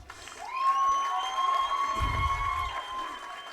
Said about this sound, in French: S'il vous plaît, applaudissez-les encore une fois bien fort